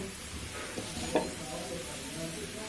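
Chopped cabbage going into a pan of fried spice paste for an egg and cabbage dish, giving a soft, continuous sizzle with a single sharp clink of the utensil midway; no voices.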